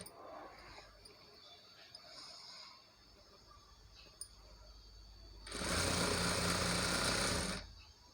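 A sewing machine stitches lining to the main fabric of a Punjabi dress top, one steady whirring burst of about two seconds near the end after quieter handling sounds, close and clear.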